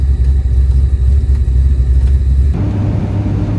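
A Firebird fitted with a clutch fan rumbles as it pulls away, a loud, close, low engine drone that shifts to a steadier hum partway through, with no talking.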